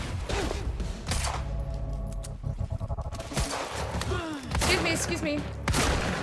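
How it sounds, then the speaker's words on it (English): A shotgun fires in Quantum Break, heard as a few loud, heavy blasts spread across the moment amid game noise and clatter, with a voice speaking briefly. "I just wasted my fucking shotgun bullets, that's what happened."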